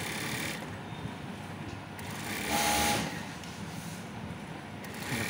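Sewing machine attaching a collar to a polo t-shirt in a Tirupur garment workshop, running with a continuous whirring hum that briefly swells louder midway.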